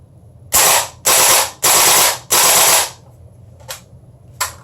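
Gas blowback guns fire in four rapid full-auto bursts, each a loud close rattle lasting about half a second, followed by two single sharp shots.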